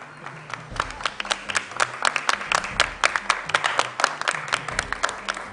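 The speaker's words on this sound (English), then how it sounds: "A round of applause" Applause at a junior high school quiz contest, a smallish crowd clapping in an uneven rhythm with sharp close hand claps standing out, loud and lively for several seconds with no talking.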